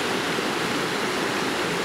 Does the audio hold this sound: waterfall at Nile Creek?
yes